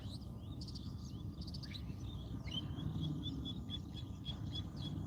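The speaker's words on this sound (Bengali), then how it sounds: "ভোরবেলা পাখির কিচিরমিচির" Morning birds chirping by a riverside, a run of thin repeated tweets and trills at moderate distance over a steady low outdoor hum, with no talking.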